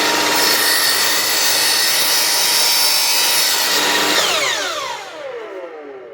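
A compound sliding mitre saw slices through a piece of timber, a loud sustained whining cut for several seconds that then winds down as the blade spins to a stop, close by and alone.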